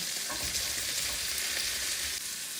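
Garlic, onion and carrots sautéing in hot cooking oil for a chicken cashew nut dish, giving a steady close sizzle with faint stirring underneath and no talking.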